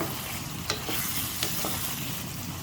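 Black chickpea curry fries in oil in a pot, giving a continuous soft sizzle, with a few scrapes of a spoon stirring it and no one speaking.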